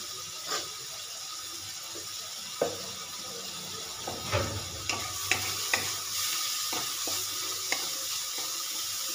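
Masala with a little sugar and water fries in a pan, giving a constant soft sizzle broken by occasional scrapes and taps of a spoon stirring it, with no voices.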